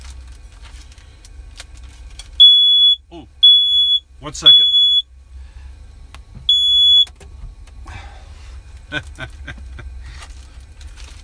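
A smoke alarm goes off in a van during bread toasting, giving four loud, shrill beeps in separate bursts with brief gaps, while a person talks briefly over and between them.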